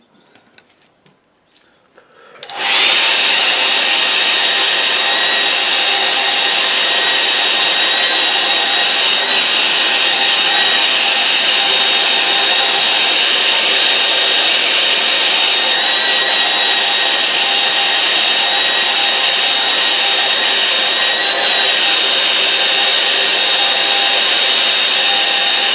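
A hair dryer drying a watercolour painting switches on after a couple of seconds of quiet and then runs loud and steady at close range, a continuous whooshing roar with a faint whine.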